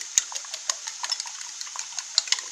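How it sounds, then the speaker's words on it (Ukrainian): Two eggs beaten with a fork in a bowl, rapid light metallic clicks and taps of tines against the dish in an uneven quick rhythm, close and alone. "Перемішую просто отак от вилочкою."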